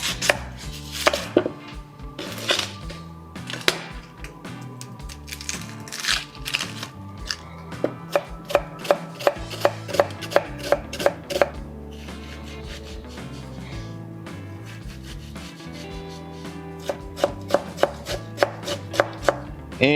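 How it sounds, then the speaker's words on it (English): A knife chops red onion finely on a cutting board for deviled eggs, with rapid, crisp strikes in steady bursts, close and clear over a soft background and no talking. "you just want to make sure that you chop this up fine enough"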